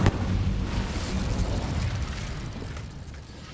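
Incendio fire spell cast in Hogwarts Legacy: a sustained, roaring, explosive whoosh of flame that fills the moment, then slowly tapers off, with a sharp burst at the very end.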